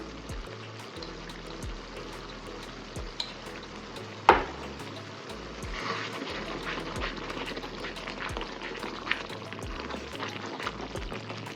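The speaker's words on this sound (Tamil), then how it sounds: "இப்போ மசாலா வந்து நல்லா கொதிக்க ஆரம்பிச்சிருச்சு" A thick mushroom pepper masala sauce bubbles and sizzles in a pan while being stirred, with occasional scrapes and one sharp clink against the pan.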